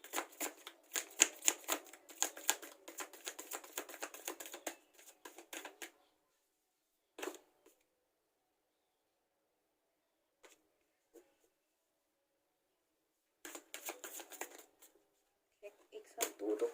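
Tarot cards shuffled in rapid crisp riffling bursts, then several isolated snaps as cards are drawn, with quiet pauses between, close and clear.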